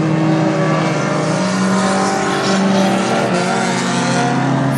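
Hornet-class race cars compete at North Central Speedway, several engines droning loudly and continuously with wavering pitch as they lap the track, tyres faintly squealing, no voices.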